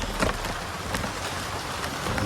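Video game rain falls as a steady, broadband hiss with scattered soft patters and gusty swells, continuous and even, with no voices.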